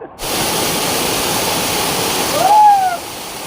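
A loud, continuous roar of a waterfall fills the scene, steady white rushing water up close, with a brief whistle-like tone near the end.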